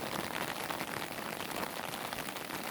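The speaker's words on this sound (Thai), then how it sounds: "ฝนตกกอย ๆถ่ายบรรยากาศฝนตกมาให้เพื่อนๆดู" Rain falls outside a window, a steady soft hiss of drops on surfaces, even and continuous, with no voices.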